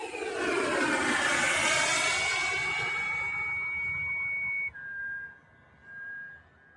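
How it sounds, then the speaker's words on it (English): RC model trainer jet airplane flying past, a loud whooshing turbine roar with a high whine that sweeps downward, then fades as a thin whistle trails off into the distance. "this is the Chinese and several other countries airplane that is a trainer-based jet"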